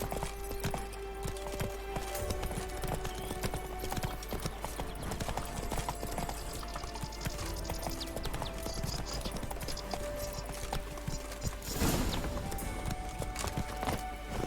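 A horse gallops in The Witcher 3, its hooves beating a fast, steady clip-clop that runs the whole way through at close range. A brief whinny rises near the end, with game ambience underneath.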